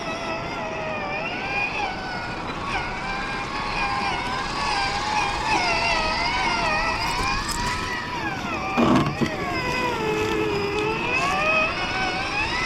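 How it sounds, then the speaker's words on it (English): A brushless scale RC crawler creeps along at low speed, its motor giving a steady, smooth whirring drone with slight pitch shifts throughout, close by, with a brief clatter near the end. "the big deal with this one is its low speed crawl thanks to the new brushless system in here"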